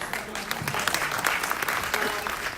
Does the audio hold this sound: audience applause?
yes